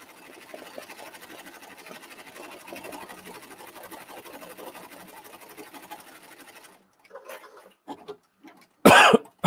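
An embroidery machine stitches steadily with a fast, even mechanical chatter, close and moderately loud, then stops and gives way to a few scattered handling clunks and a loud throat-clearing cough near the end.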